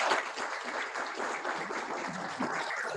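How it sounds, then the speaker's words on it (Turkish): A crowd applauds continuously at a veterinary faculty graduation ceremony, a dense wash of clapping from many hands held at an even level throughout. "Zeynep Bideci alkışlarımıza geliyor."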